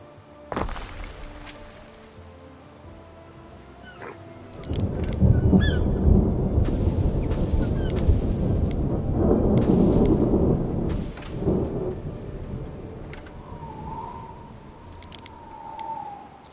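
Heavy rain and rumbling thunder in the video game ANNO 117, a steady loud downpour building midway with low rolling rumbles and a brief whistling tone near the end.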